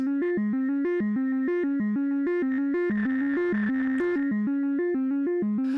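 A looping synthesizer note sequence with a resonant, ringing low-pass filter sweep that grows buzzier in the middle, continuous and fairly loud.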